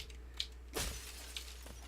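Glass jar shattering in the video game Hollow Knight, a single sharp crash that bursts out and quickly fades over a low steady hum, with a few faint tinkles around it.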